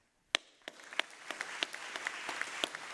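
Sparse, scattered clapping from a small audience at a biotech and health panel during a tech conference, sharp individual claps spaced unevenly and fairly faint, without talk.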